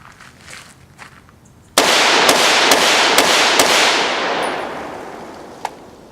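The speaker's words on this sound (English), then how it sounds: "Yeah, that's an AR." An AR rifle fires a rapid string of about five loud, sharp shots, each cracking close and trailing into a long echoing decay, with one fainter report after.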